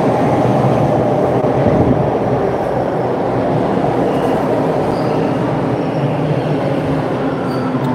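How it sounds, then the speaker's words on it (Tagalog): A train pulls into a downtown Toronto station with a loud, continuous rumble of rolling wheels and a faint squeal, filling the platform steadily with no talk over it. "Ayan na yung train namin"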